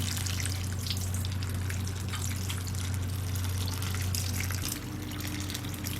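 Water pours steadily from a tap or jug over dry potting soil in small seedling cups, a continuous near splashing trickle with a low hum beneath, lasting about six seconds and free of talk.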